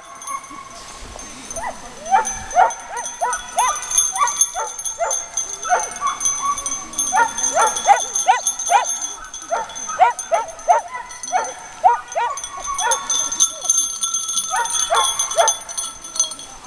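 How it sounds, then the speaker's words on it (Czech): A dog barks and whimpers outdoors on a hill in a steady stream of yips and short barks, fairly close, with some faint voices underneath. "Je ten pes. Už běží."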